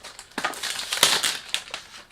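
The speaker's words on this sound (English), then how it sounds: "Sorry about the noise, you can't do anything when you do unboxing." Crinkling and rustling of a perfume box for Guy Laroche Drakkar Intense being unboxed, close and fairly quiet, with irregular crisp crackles and a sharper crunch near the middle.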